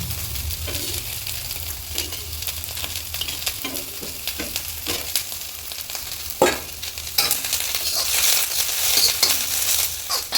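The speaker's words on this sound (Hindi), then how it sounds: "इधर हमने कहा थोड़ा सा बंधा को फ्राई कर लेते हैं" Shredded cabbage fries in a pan with a steady close sizzle, stirred now and then with scrapes and clinks; the hiss swells louder toward the end.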